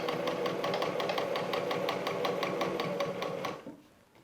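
A sewing machine running a straight seam at 2.5 mm stitch length on fabric for an Easter basket, a fast steady rhythmic whirring that runs continuously and then winds down as it stops.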